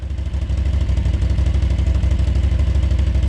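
A motorcycle idling on its stock exhaust pipe, a steady, rapid low thumping rumble with even pulses, close and loud throughout.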